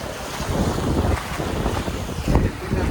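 A boat moves off near Thinnakara island in Lakshadweep, a close, blustery mix of wind buffeting the microphone, churning water and rushing waves, loud and uneven, with no clear speech.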